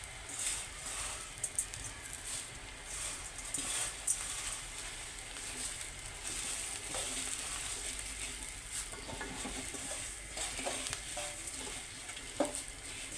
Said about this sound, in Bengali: পেঁয়াজগুলো একটু ব্রাউনিশ হওয়ার পরে চিরাগুলো দিয়ে দিচ্ছি